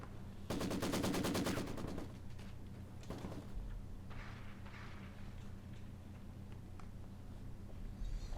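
Rapid machine-gun fire crackles in a World War II style multiplayer match, a dense automatic burst followed by a few scattered single shots and distant battle noise.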